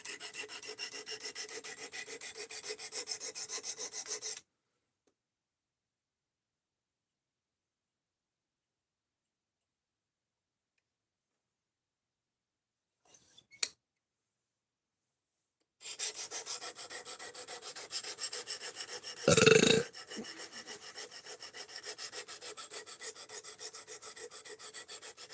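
Knife edge rubbed on a sharpening stone to raise a burr, making gritty rasping strokes in quick rhythmic bursts at close range, interrupted by a long silent gap and a brief clatter before the strokes resume.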